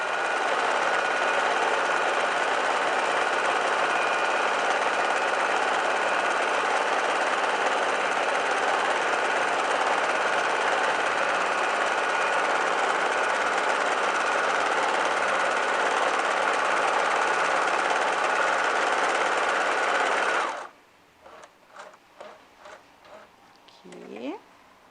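Sewing machine stitching a cushion cover, its motor running in one long continuous loud whir for about twenty seconds, then stopping abruptly, followed by faint handling noises and brief quiet rustles.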